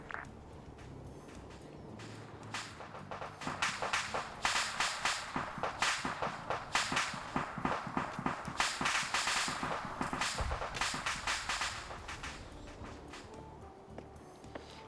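Incoming airstrikes pound an enemy base in a military video game, a rapid barrage of sharp cracks and blasts that builds into a dense volley before thinning out, fairly loud and alone.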